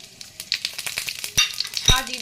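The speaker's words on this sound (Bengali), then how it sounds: "ফোড়নে দিচ্ছি গোটা গরম মশলা, দারচিনির, এলাচ আর লবঙ্গ" Whole garam masala of cinnamon, cardamom and cloves crackling in oil and ghee, a close sizzle broken by sharp pops and spattering bursts, with no speech.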